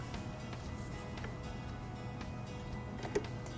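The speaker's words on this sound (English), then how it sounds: "I'm going to line up my fabric, wrong sides together, and I'm going to sew" A sewing machine stitches a fabric seam, wrong sides together, as a faint, steady mechanical whir and light ticking that runs unbroken for a few seconds with no talking.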